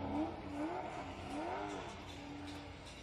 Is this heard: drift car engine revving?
yes